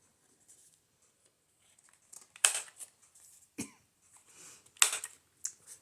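Scissors snip through wallpaper scraps for handmade ephemera, a few distinct crisp cuts with quiet gaps between them, close and fairly faint.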